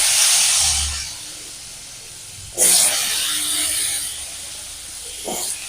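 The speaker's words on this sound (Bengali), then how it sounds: "ওই তেলের মধ্যে দিয়ে দেবো আলু" Cut potatoes hit hot oil with a loud, close hiss that eases into a steady sizzle, then flares sharply again midway and once more near the end as more pieces go in; no one speaks.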